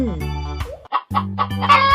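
A chicken clucks in quick, close bursts, a series of sharp fowl calls rising over a tonal, droning background.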